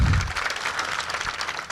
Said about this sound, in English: let's hear a round of applause for the Rouse's family